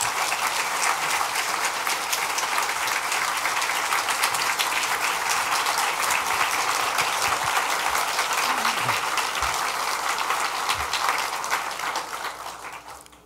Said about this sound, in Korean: 나오실 때 우리 뜨겁게 박수로 환영해 주시기 바랍니다